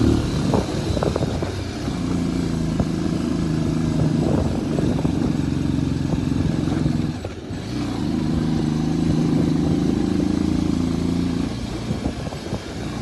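Motorcycle engine droning steadily as the bike rides over a rocky road with stones, loud and close throughout, a brief dip in the middle before the drone resumes.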